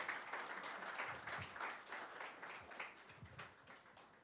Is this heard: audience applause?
yes